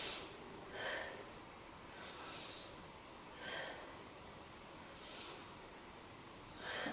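Slow, deep yoga breaths during a held hip-stretch pose, about four soft, airy inhale-exhale swells spaced evenly and heard close up in a quiet room.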